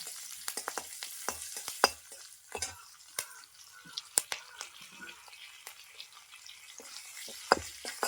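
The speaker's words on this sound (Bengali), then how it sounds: "দিয়ে দিচ্ছি বেশ কিছুটা কারি পাতা ও দুটো কাঁচা লঙ্কা চেরা বেশ ভালো করে এটা ভেজে নেব" Curry leaves and slit green chillies fry in hot oil for a Gujarati khandvi tempering, giving a light, steady sizzle broken by sharp crackles and spoon stirs, close by with no talk.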